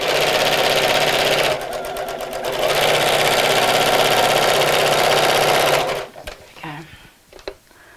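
A sewing machine stitches a Christmas gift sack, running loud and close in one long continuous whir for about six seconds before stopping, followed by a few soft handling clicks; a voice talks faintly beneath.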